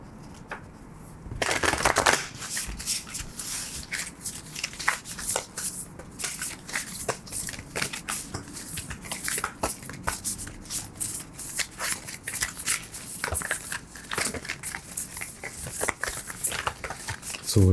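Tarot cards from an Alchemy deck being shuffled by hand, a steady run of crisp riffling and flicking bursts close up that continues throughout with no talking.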